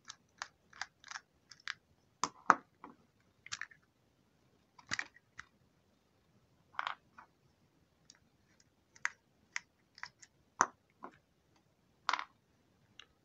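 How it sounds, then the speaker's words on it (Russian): Small flat screwdriver turning two screws out of an old Kharkov electric razor, a quiet run of sharp dry clicks and ticks in irregular bursts, close and faint with silence between. "Откручиваем два винтика, которые видны."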